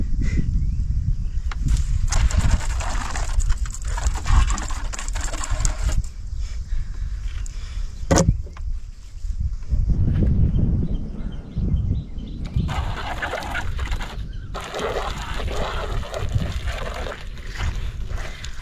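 A high-pressure bike and car washer sprays water in loud hissing bursts that start and stop, with a steady motor hum and low rumble underneath.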